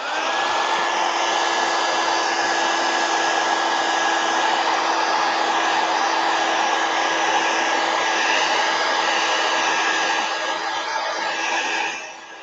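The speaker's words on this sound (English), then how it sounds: "Heat gun." A heat gun blowing over a watercolor painting to dry it, a loud steady whooshing roar with a faint motor whine, continuous and close for about twelve seconds before switching off, with no talking.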